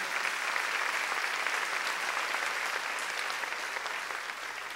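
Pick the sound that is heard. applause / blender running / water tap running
applause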